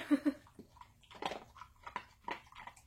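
A dog crunches on crisp insect-protein treats, producing a series of close, irregular crunchy bites and chews with short pauses between them and no voices.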